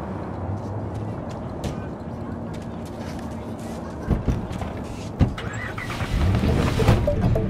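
Car driving in Cyberpunk 2077, a steady low engine and road rumble running throughout, swelling louder near the end, with a few brief knocks over it and speech-like game voices heard.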